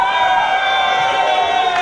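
A crowd at a Bristol beetleweight robot combat championship cheering and whooping loudly in a sustained, dense roar of mixed voices.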